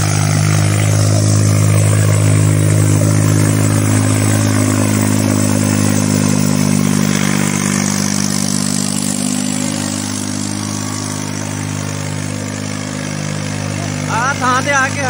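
A tractor engine runs at a harrow contest, a loud steady low drone with slight revving and a dip in level midway, heard under a crowd of people talking.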